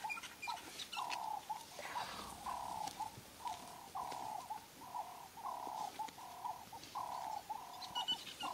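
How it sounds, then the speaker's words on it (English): Buffalo weaver birds calling overhead in the Manyeleti bush while they rebuild their nests, a steady run of repeated cooing, chattering notes in regular bursts, moderately distant over a soft outdoor background. "What's making all the noise above us, these buffalo weaver birds, busy reconstructing their nests."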